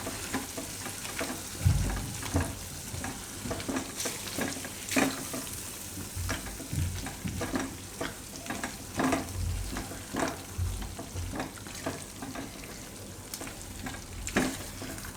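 Sizzling frying with repeated scraping and stirring strokes in a pan, irregular clacks of a spoon over constant crackle.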